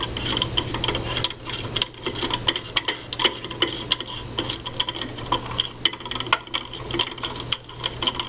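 A threading die is worked onto the muzzle end of a Mosin Nagant rifle barrel with a long die guide, giving rapid close metallic ticks and ratcheting clicks that continue steadily throughout.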